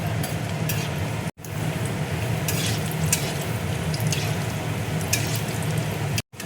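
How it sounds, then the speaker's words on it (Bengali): Cashews and raisins frying in hot oil in a kadai, a steady dense sizzle with the crackle of stirring running throughout, close and moderately loud, with no talking. "কাজু কিশমিশ দেখো ভাজা হয়ে গেছে।"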